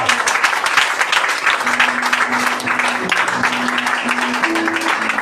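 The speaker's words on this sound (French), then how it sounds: "Est-ce que tu peux acclamer le Seigneur?" A church congregation claps and cheers, with dense, sustained applause and crowd noise, and a few voices calling out over it.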